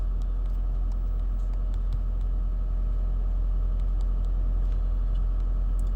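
A fast motorbike in the game Wheelie Life holds a steady, loud engine rumble with no clear rise or fall, running unbroken and alone.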